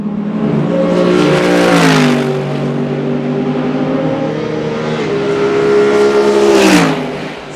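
Mercedes-AMG race car with a 6.2-litre naturally aspirated engine, loud and close, revving up and holding a high pitch, dipping, then climbing again in a second sharp surge before easing off, with no talking.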